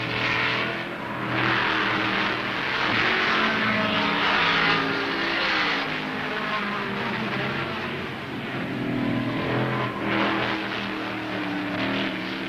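Improved production touring cars race at Warwick Farm in 1971, their engines roaring loudly and continuously, rising and falling in waves as they pass and accelerate, with no talk heard.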